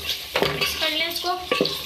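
Chicken palak with methi gets stirred in a pan, a short run of soft scraping strokes with a light sizzle underneath, close and fairly quiet.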